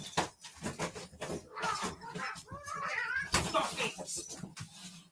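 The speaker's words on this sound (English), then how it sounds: "There was a big cat fight." Cats fight in a burst of yowling and screeching that rises and falls over several seconds, fairly close, with some bumping and rustling mixed in.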